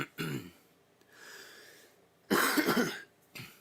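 A person coughs in two loud, harsh bursts, the second a longer fit with raspy, wheezy breath, plus a short closing cough.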